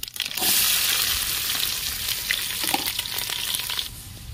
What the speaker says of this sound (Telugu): తగినన్ని ఉల్లిగడ్డలు వేసుకోవాలి.